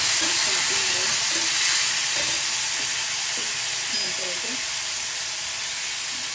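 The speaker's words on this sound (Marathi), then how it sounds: "हे झालं तर पहिले हे टाकून भाजून घ्यायचं।" Ingredients for tomato kusla frying in a pan, giving a loud, steady close sizzle and hiss that eases slightly toward the end, with faint talk beneath.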